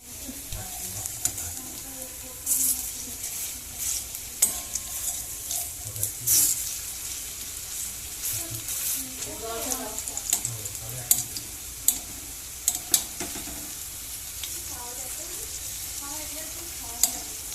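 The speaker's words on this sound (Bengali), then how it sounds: "বড়া ভাজা, আলুর বড়া ভাজা" Potato fritters (bora) fry in oil with a steady, moderate sizzle and bubbling, close by, with occasional ticks and clinks of utensils and faint background voices.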